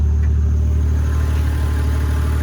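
Warmed-up Toyota Chaser JZX100 idling close by, a deep steady burbling rumble with a smooth even pulse and slight rise toward the end, loud and without talk.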